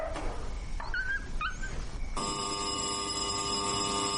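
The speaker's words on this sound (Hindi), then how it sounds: "अंतिम संस्कार घर के फोन की घंटी।" A funeral home's telephone bell starts ringing partway through, a steady sustained electronic trill, after some brief whines and yips from a dog.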